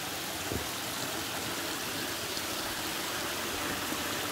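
A small waterfall spills into a flowing stream, producing a constant, full rushing and splashing. The sound is close and even, with no pauses and no voices.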